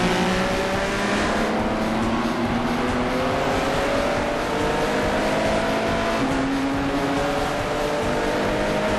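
Several historic GT and touring race car engines in the video game rFactor drone together at high revs, a loud steady buzzing roar with rising pitches as cars accelerate.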